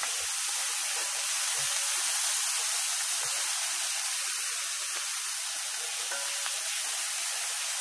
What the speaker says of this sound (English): Go ahead and mix that all in and put down your onions and garlic.